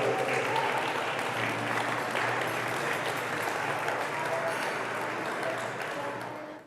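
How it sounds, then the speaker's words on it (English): An audience at a House of Mercy charity gala gives a sustained round of applause, dense and even throughout, fading slightly at the very end, with a faint hum of voices mixed in. "If we could get a round of applause for"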